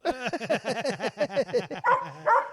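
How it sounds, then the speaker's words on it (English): A dog barks rapidly in a close, steady string of sharp yaps, ending with a couple of longer, whinier barks. "What are you barking at?"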